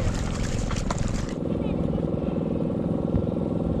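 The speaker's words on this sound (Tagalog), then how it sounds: "Umaandar yung mga makina sa patubig, you know." Irrigation pump engines run steadily nearby with a constant droning rumble, and a voice talks briefly at the start.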